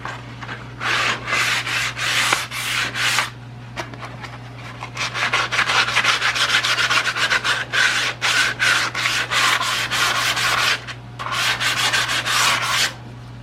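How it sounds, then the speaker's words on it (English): Hand sanding with 80 grit sandpaper along the drip rail of an old rusty Dodge car, loud close scratchy rubbing strokes in long steady bursts separated by brief pauses, with a steady low hum underneath. "The 80 grit will make nice short work of that"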